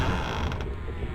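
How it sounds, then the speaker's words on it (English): A door in the horror game Fatal Frame 4 is unlocked and swings open with a loud, drawn-out creak and a mechanical rattle, heard alone over about a second. "let's unlock this door"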